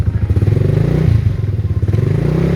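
Honda Forza scooter engine revving while stationary, a loud, close, rapid pulsing thrum with a deep, rough throb held steady at moderate revs, with no voices over it.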